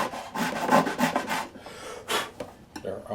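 File strokes cutting back the sharp fret ends on the first and second frets of a Larrivee classical guitar during a re-fret, a run of quick rasping scrapes, then a pause and a few more strokes, close up.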